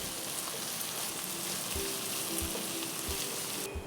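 Finely chopped large onion sizzling steadily in hot oil in a pan while cooking bread upma, a continuous close crackle with small pops and no talk.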